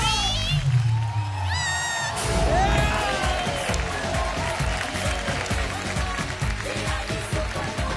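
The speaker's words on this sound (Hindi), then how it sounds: "जोरदार तालियां हो जाए साधिका और विवेक के लिए." A studio audience applauds and cheers a dance performance on a televised dance competition, the dense clapping building over several seconds with whoops, while voices and music carry over the top.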